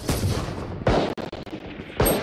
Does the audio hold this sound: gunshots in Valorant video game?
yes